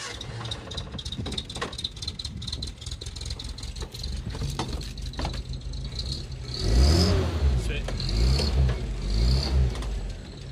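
A 1968 Commer campervan engine runs steadily throughout, with a low mechanical idle that swells louder and rougher in the second half, rattling close by with no talk.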